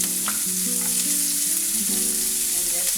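Chopped onion hits hot oil in a pan for dum aloo, giving a steady close sizzle and frying crackle with faint stirring throughout.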